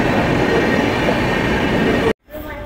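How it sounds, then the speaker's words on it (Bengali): Agniveena Express train passing toward Howrah, a loud continuous rumble of rolling carriages and wheels close by, ending in an abrupt cut to near silence. "ও অগ্নিবীণা এক্সপ্রেস, এটা শান্তিনিকেতন আসানসোল এই দিক থেকে আসে"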